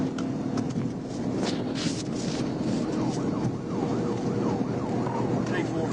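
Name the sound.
police car siren during pursuit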